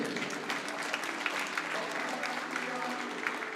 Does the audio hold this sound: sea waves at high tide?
no